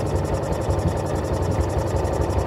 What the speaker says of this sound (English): you're probably excited that it's idling underwater right now